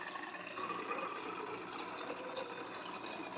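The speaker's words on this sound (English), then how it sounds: "We're going to add a little bit of water to both." Distilled water poured into two laboratory flasks sitting on stir plates: a faint, continuous watery rush and trickle with a low background hum, steady for a few seconds with no voices.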